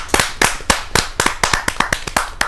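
Claps from an audience at a Hindi kavi sammelan poetry gathering, a sparse, uneven run of about a dozen sharp hand claps spread over a couple of seconds, close and fairly loud, with no talking.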